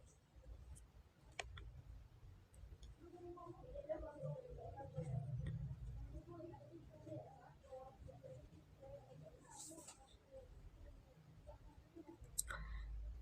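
A toggle switch flipped up on an electronics input board gives faint, sharp clicks over a steady low hum and muffled background murmur.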